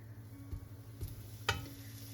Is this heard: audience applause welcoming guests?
no